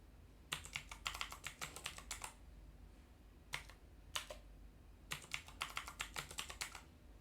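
Keys clatter on a computer keyboard as a password is entered, coming in quick close bursts of taps separated by short pauses, with no voices.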